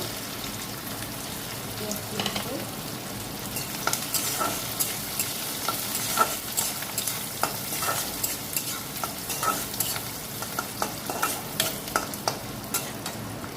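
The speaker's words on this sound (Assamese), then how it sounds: "ভাজিব লাগিব।" Chicken 65 pieces frying in a pan with a steady sizzle and repeated stirring clacks, continuous and fairly close throughout, with no voices.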